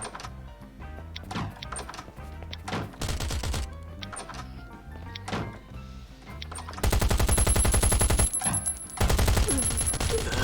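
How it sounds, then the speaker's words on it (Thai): Gunfire in Last Island of Survival, scattered sharp shots building into sustained, loud bursts of rapid fire near the end, with no talking. "มันยิงได้ถึงขนาดนี้เลยอ่ะ"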